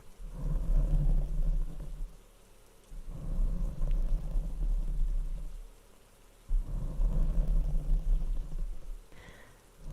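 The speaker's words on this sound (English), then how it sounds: "kind of like the rain sounds here in stream" Rain on an ASMR livestream on a cold, rainy day, a steady low rumbling wash that swells and recedes in long waves with thunder-like depth, heard alone without any talking.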